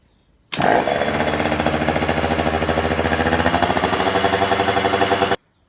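A 50cc motocross bike engine starts abruptly and runs steadily at a loud, buzzy idle to warm up before an oil change, then cuts off sharply.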